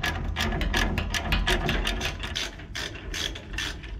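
A ratchet clicks rapidly and loudly up close while loosening a brake caliper bolt during wheel bearing work, a continuous run of sharp pawl clicks in quick rhythm, with no talking.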